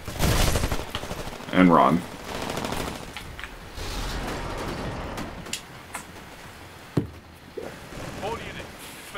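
Gunfire in Titanfall, rapid automatic bursts and scattered sharp shots amid loud battle noise and a mechanical rumble, with people talking over it.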